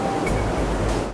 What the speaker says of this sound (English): Clean air and water are forced backwards through the system to break up and flush out anything stuck in the carbon.